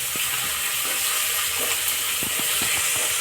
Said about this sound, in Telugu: ఇవి బాగా ఫ్రై అవ్వాలి.